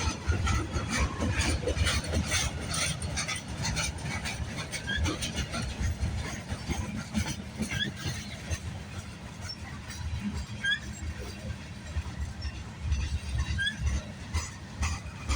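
A CN freight train carrying drywall rolls past near the Sarnia, Ontario yard, slowing down, with a steady loud rumble of wheels and wagons and faint high squeals throughout.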